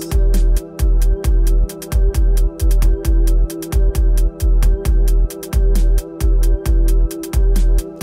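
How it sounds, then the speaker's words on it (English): Breakdown section of a song: loud, steady booming kick drum with an 808 bass following the same pattern, dense and punchy with sharp repeating hits and no voices. "So we get more kick drum, no snare or clap"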